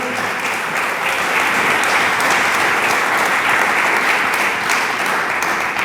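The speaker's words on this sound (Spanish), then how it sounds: "Dele palmas al Señor." A church congregation claps together in praise during a sermon, a dense, even wash of applause that stays loud and steady throughout, with no speech over it.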